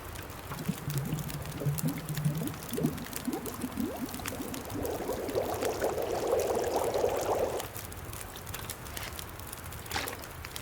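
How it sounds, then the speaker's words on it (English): Water melting in a pot in the video game The Long Dark, heard as soft watery bubbling and trickling that builds into a steady burble midway, then cuts off, leaving quiet ambience. "And let's melt some water."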